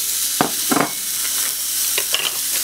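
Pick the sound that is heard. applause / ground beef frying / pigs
ground beef frying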